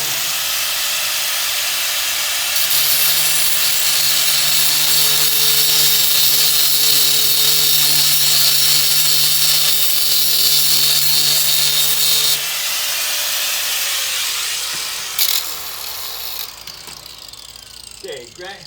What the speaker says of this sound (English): So get your grinder